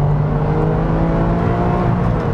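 A Porsche 911 996 C4S's 3.6-litre flat-six drones steadily and loudly from the rear, heard from inside the car as a rich, even engine note with a low rumble and no speech.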